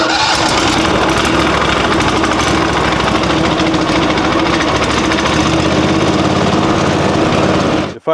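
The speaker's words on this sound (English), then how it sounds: "It fired right up super quick and easy." MechMaxx B200 wood chipper's small gas engine running steadily at a loud, close, buzzing roar with a constant vibrating drone, cutting off abruptly at the end.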